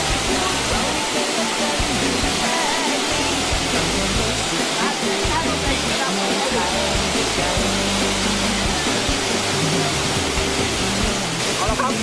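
Krung Ching waterfall pours in a dense, continuous roar of falling water, loud and close, holding steady without a break from start to finish.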